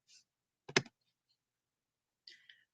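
A computer mouse clicks a few times, quiet, sharp isolated taps separated by silence.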